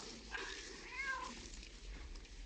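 A cat meows once or twice at moderate level against a steady background hum, with no voices present.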